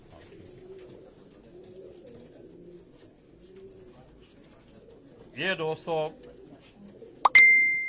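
Kamgar breed pigeons coo softly in a rooftop loft, faint low coos running under the scene before a brief burst of voices and a sharp metallic clink near the end.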